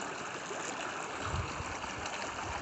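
Creek water flows steadily near a hiker wading into a creek along the American Discovery Trail in Dolly Sods, a constant loud broadband rushing wash with faint low thumps and no voices.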